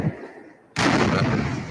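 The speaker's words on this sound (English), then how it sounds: "Youth gangs used powerful fireworks to attack police in Berlin last night." Powerful fireworks exploding during street clashes in Berlin: a sudden loud blast after a quieter stretch, followed by a sustained roaring, crackling wash of noise that stays strong to the end.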